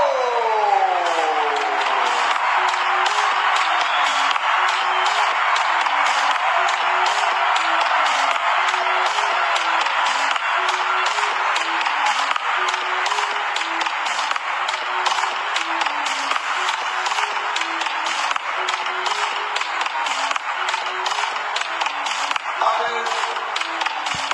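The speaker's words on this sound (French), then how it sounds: "Applaudissements pour Johan" Stadium crowd applause and cheering during a Ligue 2 trophy presentation for a Reims football player, a loud continuous roar of clapping sustained for over twenty seconds, with music or a tannoy tone running beneath it.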